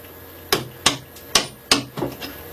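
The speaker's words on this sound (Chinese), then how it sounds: "你要是凿这个眼儿" A hammer strikes a chisel cutting a mortise in wood, giving five sharp, close knocks at an uneven pace, the last two quicker and a little softer.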